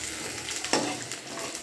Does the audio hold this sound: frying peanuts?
yes